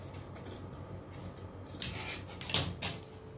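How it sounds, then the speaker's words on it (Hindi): Scissors cut the front piece of a kameez fabric, with a few crisp snips near the end of the clip over quiet handling sounds. "इस वाले पल्ले को खोलकर आगे वाले को ये वाली कटिंग इसकी फ्रंट की काट के डाल देते हैं"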